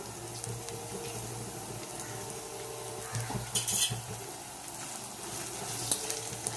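Onions, green chilies and curry leaves fry in hot oil in a pan, a steady sizzle running throughout with scraping stirs and a few louder clinks of a utensil against the pan.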